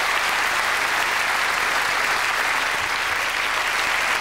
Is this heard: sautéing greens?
no